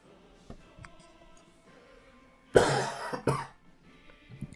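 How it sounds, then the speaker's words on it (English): A single person's coughing fit breaks out mid-clip, two loud, harsh bursts close together at the microphone, set against a quiet room with faint ticking clicks before and after. "Coughing."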